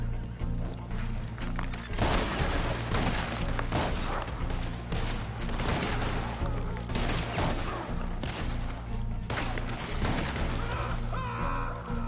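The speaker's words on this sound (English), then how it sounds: "This shotgun really gets the job done." Shotgun blasts from a Western-themed online game, Red Dead Online, booming loudly in a dense, busy mix with game ambience, a horse and other noises, several heavy bursts spread across the stretch.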